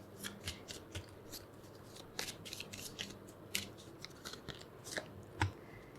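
Tarot cards being handled and shuffled, giving a series of short, irregular crisp snaps and riffles close to the microphone over a faint background hiss.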